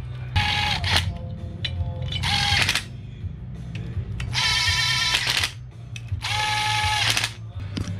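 Ratchet tightening the bolts on a mechanical injector pump during a Toyota Hilux 1KZ diesel conversion, with four loud bursts of rapid clicking separated by short pauses over a low background hum.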